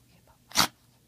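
A dachshund mix sneezes once, a short sharp close burst of breath that stands out alone in a quiet room.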